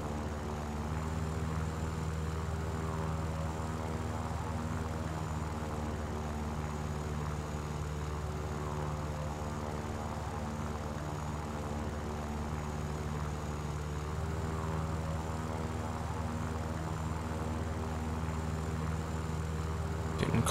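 Steady propeller aircraft engine drone in War Thunder while chasing a Wellington bomber, a continuous close hum with strong low harmonics holding level for the whole stretch, with no talk over it.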